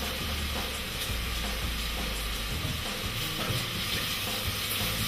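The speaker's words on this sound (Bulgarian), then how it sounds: "С супена лъжица зехтин, която се загрява в тенджерата, и в нея ще сложим само за няколко секунди моркова, лук" Carrot, onion and garlic sizzling in a spoonful of heated olive oil in a pot, a continuous soft crackling hiss with faint stirring scrapes, moderately quiet and close, no voices.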